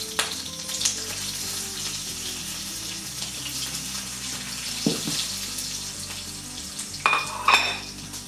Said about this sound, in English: tempering should be always done with ghee